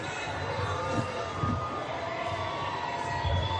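Crowds cheering along a Chicago street at the Cubs World Series celebration parade, a steady outdoor roar with a few louder swells of cheering and some voices heard over it.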